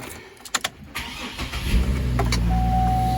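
A cheap used car's engine cranks with a few sharp clicks, then catches and settles into a steady, loud idle close by, with no talk.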